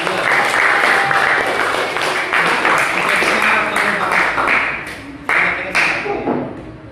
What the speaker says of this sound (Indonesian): sampun monggo beri tepuk tangan